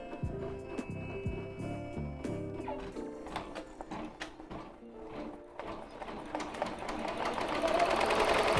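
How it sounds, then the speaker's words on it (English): A Ricoma Marquee 2001 embroidery machine sews 3D puff embroidery onto a structured snapback hat. Rapid, busy mechanical stitching clatter runs throughout, rising louder near the end, with faint tonal background sound underneath. "in terms of like the sound of the embroidery machine"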